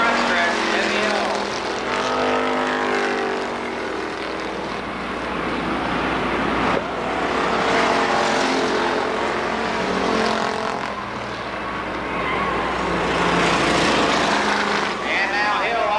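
At Columbus Motor Speedway, a field of stock cars drones around the oval, engine roar rising and dipping as the leader and following cars pass, under steady public-address commentary.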